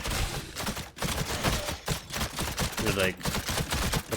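Traps unleash a dense, continuous fusillade of rapid shots in the Titan Quest 2 action role-playing game, the crackling bursts running nearly unbroken while someone talks over them.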